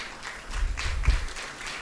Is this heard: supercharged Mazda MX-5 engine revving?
no